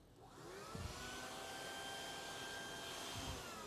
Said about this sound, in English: I'm just going to try what happens with this vacuum